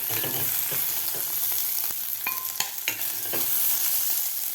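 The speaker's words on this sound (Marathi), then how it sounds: "फुल गॅसवरच मी भेंडी हे फ्राय करून घेतलेले आहे" Okra frying in a kadhai over a full flame, a steady close sizzle with scattered clicks and scrapes of stirring throughout, no voices.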